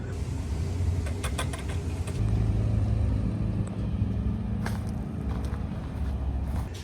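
A Honda S2000 engine idling steadily after starting, with new pulleys and belt fitted and the O2 sensor missing, a low continuous rumble close by with brief higher clatter early on.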